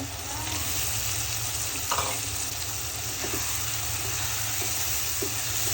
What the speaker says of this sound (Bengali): মশলা ভালো করে কষিয়ে নিলাম, এখন আমি চিংড়ি মাছগুলো দিয়ে দিব।